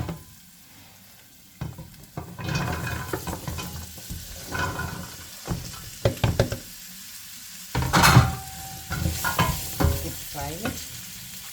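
Chopped pumpkin stirred and sizzling in a pan, with scraping and clattering of a utensil against cookware, a few sharper knocks near the end.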